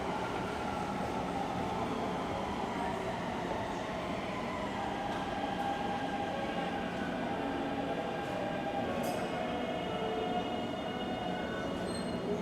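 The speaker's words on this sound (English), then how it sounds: "So this is the train." A subway train in Taipei makes a continuous rumble with a rising motor whine and faint squeals and clicks, steady and close throughout, with no voices.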